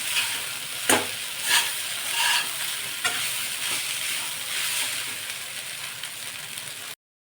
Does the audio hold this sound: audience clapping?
no